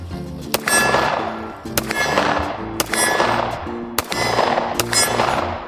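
Sig P320 X10 handgun fired during a deer hunt, four sharp reports spaced about a second apart, each loud and close with a ringing decay, and no talk over them.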